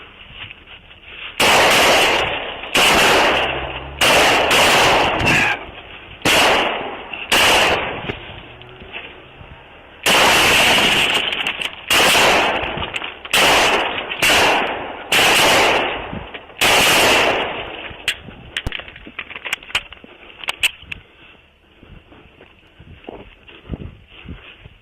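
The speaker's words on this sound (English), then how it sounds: "Shots fired! Shots fired!" Rapid bursts of gunfire during a police shootout, very loud and harsh, with repeated volleys and short gaps, thinning to scattered single shots toward the end.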